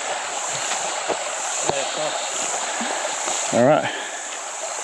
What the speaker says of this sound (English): here we have the creek